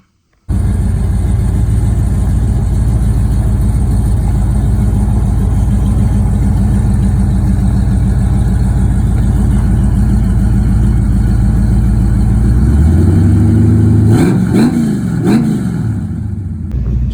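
A Chevrolet C10 truck's swapped V8 engine idles with a deep, steady rumble, then revs up a couple of times near the end before settling back, loud and close.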